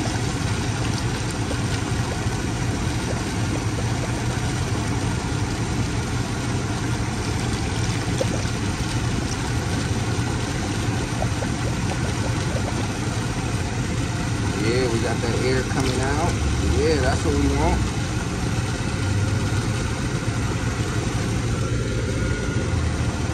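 A 1978 Chevrolet El Camino engine runs steadily at idle after a radiator refill, a continuous low rumble close by, with someone talking intermittently over it.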